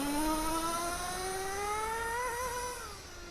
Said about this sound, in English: you probably can't hear me through the engine noise